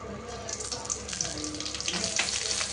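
Green chillies frying in hot oil for an Andhra ridge gourd chutney make a close, crackling splutter, with irregular sharp pops rising over a hissing bed and growing busier toward the end.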